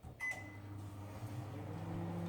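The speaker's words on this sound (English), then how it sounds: "So, chuck these in the microwave" A kitchen microwave oven hums quietly and steadily, with a brief beep or click near the start and a low, even drone running throughout.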